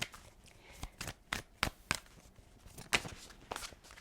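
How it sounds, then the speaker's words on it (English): Quick crisp riffling and tapping bursts of tarot cards being shuffled, irregular snaps spaced through a quiet room. "Let's shuffle."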